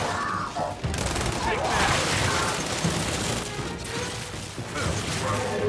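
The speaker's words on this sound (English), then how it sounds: "That wasn't really bad shooting on my part." Sustained gunfire in Gears 5, rapid overlapping shots and mechanical clatter with crashing impacts, loud and close throughout, mixed with shouted game voices.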